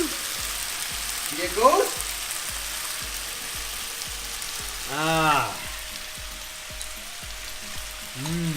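Soy sauce hits a hot pan of fish balls in sweet chilli sauce and sets off a steady, close sizzle. The sizzle runs throughout under brief talk, with a few higher whining calls rising over it.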